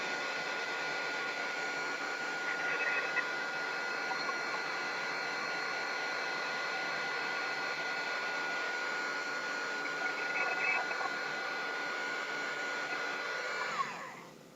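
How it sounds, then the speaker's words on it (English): A hair dryer blows steadily and close by for about fourteen seconds as a craft project is dried, a continuous even whoosh that cuts off at the end. "I'm going to just kind of dry it all up now."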